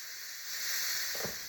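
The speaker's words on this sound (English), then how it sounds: "Before you open the lid, make sure you release the steam first." A steady, breathy hiss of steam venting from an electric pressure cooker (Crockpot) before the lid is opened, close and continuous throughout.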